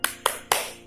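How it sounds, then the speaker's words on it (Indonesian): Three crisp, evenly spaced hand claps in a primary school classroom clap chant, close and fairly quiet, with no voices. "Nah, sekarang kita tepuk belajar."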